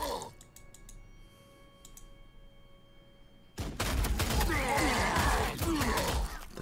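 Heavy gunfire from inferno ammunition in the Warhammer 40,000: Sanctus Reach strategy game: a quiet hum gives way suddenly to a loud, dense burst of shots and blasts that keeps going to the end.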